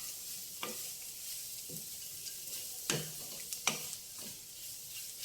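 Grated beetroot for a pesarapappu curry frying in a pan, a faint steady sizzle broken by a few soft scrapes and clicks of a spoon stirring.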